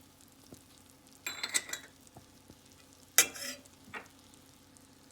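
Garlic goes into a hot pan and sizzles in two sharp bursts, with quiet kitchen background and a faint hum between them.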